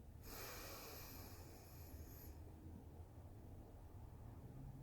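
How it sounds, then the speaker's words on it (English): A close, breathy exhale rushes into a phone microphone for about two seconds, then fades to a quiet, low background hiss. "only thing that's going on right now is me breathing in front of my phone"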